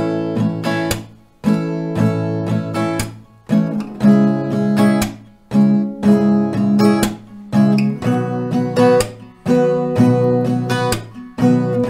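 Acoustic guitar strums through a slow chord progression, each chord ringing out with steady, relaxed strokes, close and clear with no voices.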